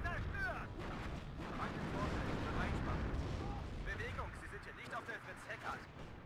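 Tank and artillery fire in the Cold War strategy game WARNO, with Abrams tanks and T-55s trading shots: a dense barrage of booming, cracking blasts, loud and continuous, with someone talking over it.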